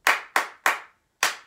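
Flamenco hand claps in a quick pattern: three sharp, evenly spaced claps, a brief gap, then a fourth, crisp and close with no talking.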